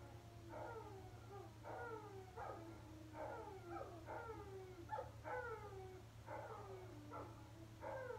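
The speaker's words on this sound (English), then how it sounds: "the dogs are freaking howling." Several dogs howl in a long repeating chorus of rising and falling wails, faint and distant over a steady low electrical hum.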